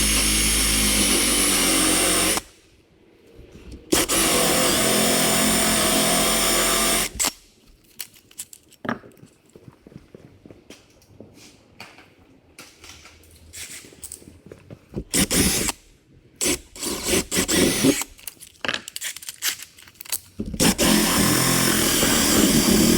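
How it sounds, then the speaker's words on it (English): Power drill driving a hole saw into treated plywood on a 1992 Arctic Cat Kitty Cat snowmobile seat, loud sustained whining bursts with pauses, then a stretch of uneven scraping and chattering before the drill roars again at the end. "So I'm just gonna take a hole saw and get me close."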